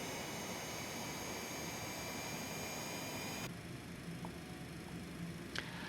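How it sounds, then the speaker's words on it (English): A Citation X auxiliary power unit spools up in the X-Plane 12 flight simulator. It gives a steady, loud turbine roar with a high whine, and the bright top end drops away about halfway through, leaving a lower hum. "So the APU starts up. You can hear it also."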